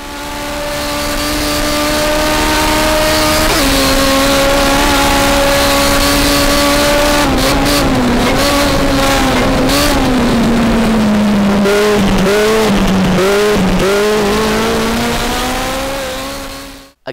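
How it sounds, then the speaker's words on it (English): Simulated Legends race car engine from the Trellet Legends mod for rFactor, a steady loud drone with shifting pitch, an upshift near four seconds, then wavering revs through corners and a brief tire squeal, continuous and close. "Here's what the Trellet Legends mod looks and sounds like."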